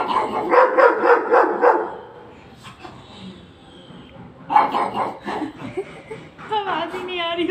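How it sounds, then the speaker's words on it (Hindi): A pug barks in short bursts of several yaps, close and fairly loud, with gaps between the bursts and soft whimpering sounds, while people talk and chuckle in between. "थक गया भौंकते भौंकते यूं।"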